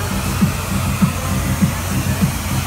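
A blower attached to a basin dries food at a night market stall, giving a loud, steady whooshing roar with a faint regular thump about twice a second beneath it, with no voices on top.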